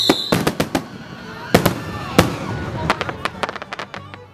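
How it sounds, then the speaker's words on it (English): A firework display over the sea at Sheerness Promenade at night: sharp bangs and crackling bursts, some close and loud, others scattered and quicker, over a steady outdoor hiss. "watching this spectacular firework display lighting up the night sky with a"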